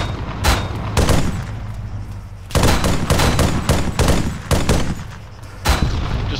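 Enemy gunfire in the military shooter Arma 3, loud repeated automatic bursts and single cracks arriving in clustered volleys close by, interrupted by brief lulls, with no voices.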